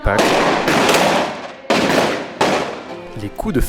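Several sharp, loud bangs from celebratory Easter gunfire in Sardinia ring out one after another, each echoing and fading, with faint voices toward the end.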